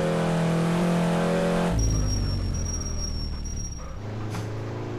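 A first-generation Honda NSX in the racing game Driving School Classic, its engine droning loudly at high revs. The pitch drops sharply as it shifts, then climbs and settles again, continuous and close with no talk.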